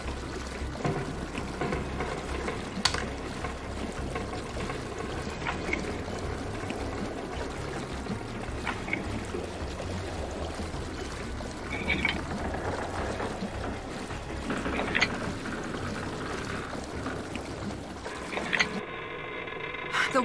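Water pours and drains continuously through a flooded ship bilge in the Nancy Drew: Sea of Darkness video game, a steady rushing, trickling wash with occasional splashes and knocks, heard alone without talk.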